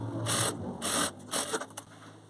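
A sewing machine stitches a strip of a tea towel in short quiet bursts, three or four runs of rapid whirring separated by brief pauses.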